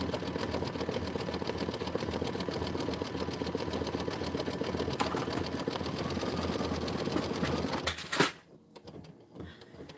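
A sewing machine stitches quilt blocks in a fast, steady, close whirring run for about eight seconds, then stops abruptly, leaving near silence.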